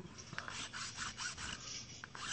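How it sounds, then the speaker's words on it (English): Rhythmic rasping of a file being worked back and forth across a notch to level and sharpen it, steady repeated strokes, close and fairly quiet under a constant hiss. "you can file a little bit off, level it out, sharpen it up"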